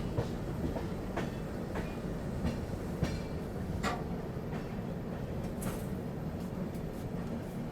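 The Pune–Howrah Azad Hind Express passenger train rolls steadily past at close range, a continuous loud rumble with rhythmic clickety-clack of wheels over rail joints and no voices.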